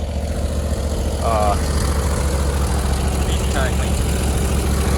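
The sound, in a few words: stump grinder engine running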